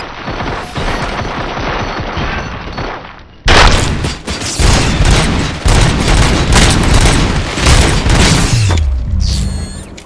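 Gunfire in the RoboCop: Rogue City video game, steady loud bursts of automatic shots that erupt after a tense lull and keep pounding through the scene before trailing into a rising electronic tone.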